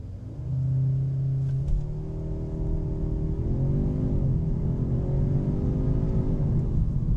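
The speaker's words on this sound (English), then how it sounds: "And there's launch control." A 2025 Audi S3 held at the line in launch control, the engine droning at raised revs with a steady low rumble and shifting tone, close and loud.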